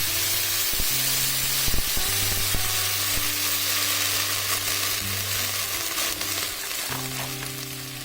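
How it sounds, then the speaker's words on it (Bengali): Water is poured into a hot pan of bitter gourd and puti fish with slit green chilies, producing a constant, loud close sizzle and bubbling hiss, with low sustained musical tones beneath and no speech. "এবার পরিমাণ মতো জল দিয়ে দিচ্ছি।"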